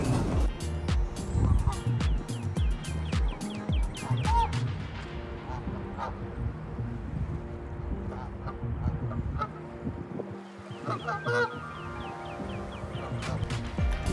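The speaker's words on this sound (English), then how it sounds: "these geese, they're like yelling at me" Geese honking loudly and repeatedly outdoors near a walking person, harsh overlapping calls in irregular bursts over background noise, with a spoken voice mixed in.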